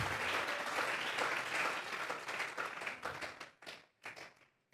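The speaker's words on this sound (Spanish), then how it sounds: "Vamos a regalarle ofrenda de palmas al Dios de la gloria" Church congregation claps in praise, a dense burst of applause that fades into a few scattered, separate claps before stopping.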